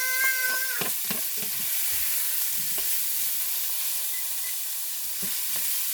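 Garlic sizzles in a hot pan with a steady hiss, broken by a cat's meows and scattered clinks near the start and end.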